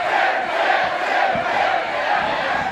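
A live wrestling crowd in a Brisbane arena roars and cheers steadily throughout, a dense, loud wall of voices with no clear individual speech.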